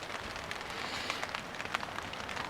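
Rain falling in UK woodland, a steady, close patter of drops on surfaces with no voices.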